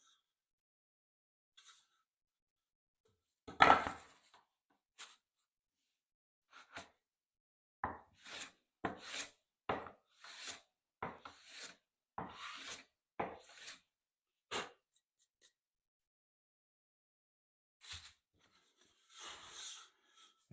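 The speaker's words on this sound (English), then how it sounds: "Let's shave away any of that excess glue." A hand plane shaves excess dried wood glue off a glued wooden joint, giving a series of short, dry rasping strokes in irregular bursts, close and fairly quiet, with pauses of silence between runs of strokes.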